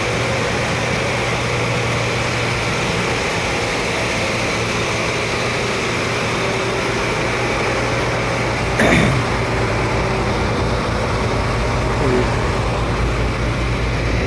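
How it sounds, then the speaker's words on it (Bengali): Two boat engines run together at about 1100 to 1200 rpm while the vessel sits stuck on a sandbar, giving a steady, loud low drone with a constant hum throughout and a brief rattling surge near the end. "দুইটা ইঞ্জিনই চলতেছে কিন্তু একসাথে"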